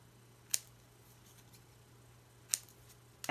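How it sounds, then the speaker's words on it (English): Scissors snip through a strip of decorative doodle tape in two sharp, close cuts about two seconds apart, with a third quick snip at the end, against a quiet background. "I'm just going to cut it apart"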